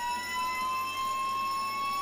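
An ambulance siren in the Roblox game ERLC wails steadily at moderate volume, its sustained tone holding across the whole stretch without other sounds.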